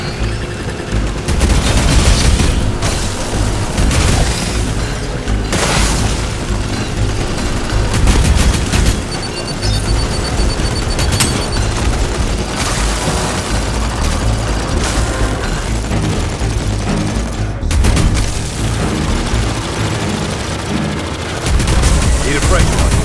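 A sentry turret in Aliens: Fireteam Elite fires in sustained, dense bursts. The heavy automatic gunfire and booming impacts stay loud throughout, with brief talk mixed underneath.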